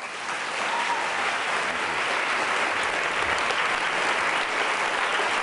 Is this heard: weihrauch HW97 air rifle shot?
no